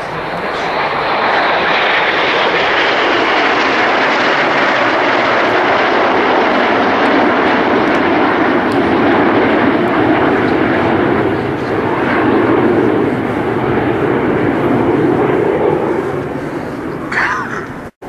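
Iskra jets of the Polish Air Force aerobatic team fly past at an air show, a loud sustained jet roar that swells and slowly fades, with a voice speaking over it.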